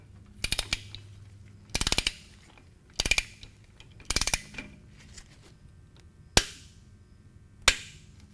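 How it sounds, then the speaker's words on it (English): A torque wrench ratchets in four quick bursts of rapid clicks while tightening a Harley-Davidson motorcycle transmission plug, then gives two single sharp clicks as it reaches its set torque; close and crisp with no talk. "You'll want your torque wrench set at 14 to 21 foot-pounds of torque."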